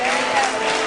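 Audience clapping at a disco dance hall with a live orchestra, a steady dense patter of many hands filling the room, continuous and fairly loud for a brief moment.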